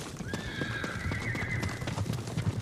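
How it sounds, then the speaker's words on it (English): Horses in the video game Ghost of Tsushima give a loud, drawn-out whinny while their hooves clip-clop in a quick galloping rhythm underneath, close and clear with no talking. "Horses!"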